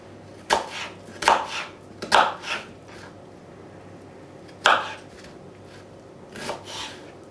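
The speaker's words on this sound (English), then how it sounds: "And then just cut it into wedges." A knife chops an onion into wedges on a cutting board, giving about six sharp, close cuts in an irregular rhythm with short gaps between them, and no speech.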